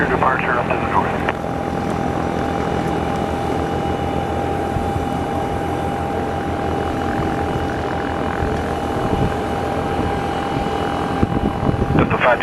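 A Cessna 172S Skyhawk SP light aircraft taxies at Northeast Philadelphia Airport, its engine a steady, continuous drone with a faint constant tone, under radio chatter from air traffic control.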